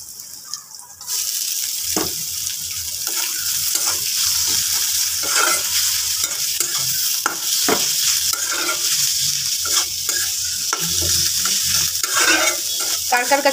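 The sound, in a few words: radish greens being stir-fried with new onion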